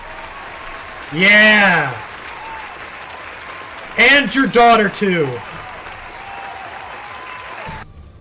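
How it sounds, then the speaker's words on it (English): A steady wash of clapping, like a round of applause, plays in the background during Crusader Kings 3 gameplay while someone shouts loudly over it. "How about a round of applause for that?"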